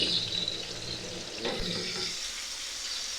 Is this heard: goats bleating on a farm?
no